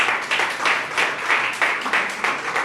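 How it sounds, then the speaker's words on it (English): Audience applause at a Pride celebration, a steady wash of many hands clapping in rolling surges, moderately loud with no voices over it. "Let's give another round of applause for New Pride Agenda"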